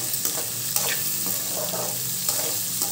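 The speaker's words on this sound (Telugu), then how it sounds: "వీటన్నిటిని లో ఫ్లేమ్ మీద 2 నిమిషాలు చక్కగా వేయించుకోవాలి." Vegetables for fried rice, including beans, carrot and capsicum, stir-fry in a pan over low flame, with a steady sizzle and occasional scraping stir strokes, heard close and without talk.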